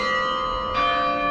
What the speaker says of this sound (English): just in time for the bells